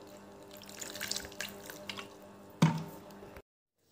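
Water is poured into flour dough for making flour paneer, giving a close, wet trickling and dripping with a soft splash and squish near the end before cutting off to silence.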